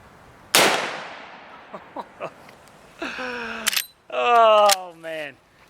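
A single sharp, loud report from a rifle firing a high-velocity golden bullet at a target, with a long decaying tail, followed by a few faint clicks and then people talking.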